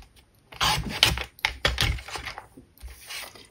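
Paper being cut for a handmade craft box, a few close crisp snips and slicing strokes in quick bursts with short pauses between them.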